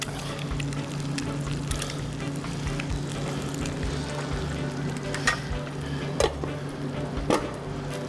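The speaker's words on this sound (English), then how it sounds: "We're going to gently fry our egg, turn the heat way down now." An egg gently frying over low heat in a pan, a soft continuous sizzle with a few brief crackles and pops, close by, with no one speaking.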